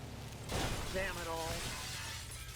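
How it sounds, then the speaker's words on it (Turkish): Glass panes smashing as a car drives through them in GTA 5, a sudden bright crash followed by scattering shards over steady game background noise. "Basıyoruz gaza ve bakalım kaç cam kıracak"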